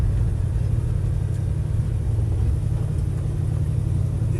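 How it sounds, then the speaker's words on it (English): A 1966 Chevrolet C10 pickup with a big block Chevy V8 and automatic transmission, its engine giving a steady, deep, continuous rumble close by with no talking. "But you do have that unique sound of a big block Chevy."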